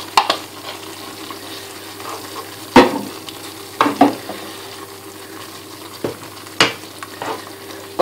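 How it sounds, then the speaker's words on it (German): Tomato halves stirred into a gently simmering gnocchi bake sauce, with soft sizzling bubbling underneath and a few sharp spoon knocks against the pan spaced a second or two apart. "Die Tomatenhälften wieder unterrühren."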